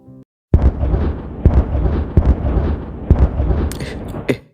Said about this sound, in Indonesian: Kenapa bisa ada bom di sini?